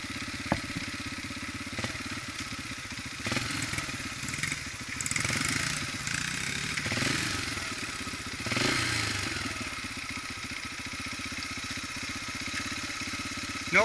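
A dirt bike engine runs steadily at an ATV park, idling and revving in a mid-pitched drone with clattery mechanical texture and a few louder surges, continuous throughout.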